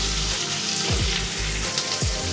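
Chopped onion, carrot and papaya fry in a pan for a Bengali chicken stew, a dense close sizzle broken by a few swishing stirs, no speech.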